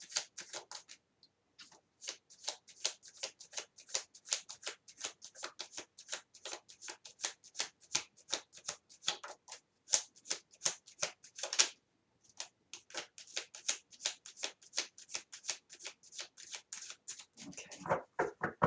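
Tarot cards shuffled by hand, a steady, quiet run of rapid riffling flicks close by, with a short pause early on and again near the middle, no voices.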